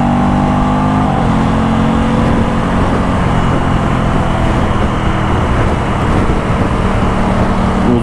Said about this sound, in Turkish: Bak devir çok yükselmeden quick shifter kullanınca böyle motor atlıyor gibi oluyor.